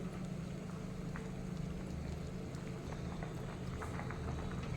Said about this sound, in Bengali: দেখে নেব ভাতটা কতটা হয়েছে। এখনো বাকি আছে, আর একটু ফুটবে।